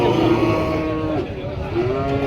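A bull on a cattle farm moos in a long, low, drawn-out call, close and loud, with a second lowing sound near the end.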